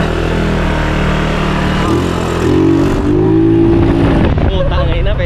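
A car with a newly installed universal digital speedometer on a test drive, its engine droning loudly and steadily with a rising rev partway through, heard from inside the cabin.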